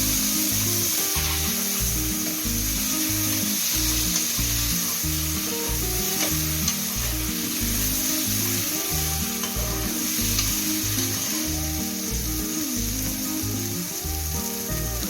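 Tomatoes sauté in a hot pan for baby corn Chettinad masala, giving a steady close sizzle with frequent scraping and stirring strokes of a utensil throughout, no voices.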